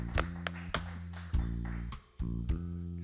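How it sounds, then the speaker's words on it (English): Sharp hand claps, several close, crisp smacks at uneven intervals over a steady sustained musical tone, with no talking. "I'm giving it a clap."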